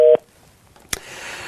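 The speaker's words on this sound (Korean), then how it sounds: "수화기 내려놓고요, 전화기." Telephone handset set down on its cradle: a short steady line tone cuts off, followed after a quiet pause by a sharp clack and faint hiss.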